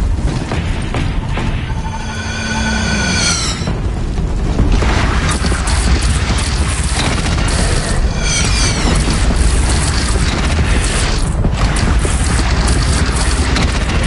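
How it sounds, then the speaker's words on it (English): Booming cannon fire in a video game battle, loud continuous rumbling blasts filling the whole stretch, with a brief whistling, rising tone near the start and scattered sharper bursts throughout. "Take up a cannon!"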